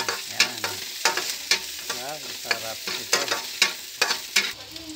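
Ginger being stirred in a hot frying pan for sautéed mussels, with sharp repeated scraping strokes of a utensil over a constant loud sizzle, close up and with no talk.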